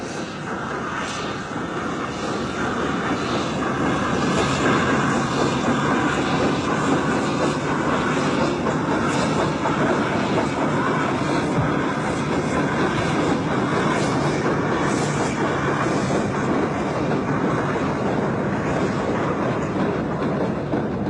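A 1970s British-built locomotive works along a lightly railed branch line, a loud continuous rumble and roar that holds steady throughout without a break.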